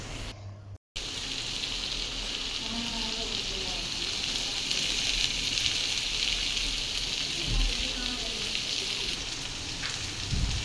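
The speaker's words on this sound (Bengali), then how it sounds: "এবার এটাকে একটু নেড়ে ছেড়ে একটু কষানো হবে কষাতে হবে ভালো করে" Chopped green chillies sizzle steadily in a hot pan as they are stirred and sautéed, a continuous bright hiss running throughout with a brief drop near the start.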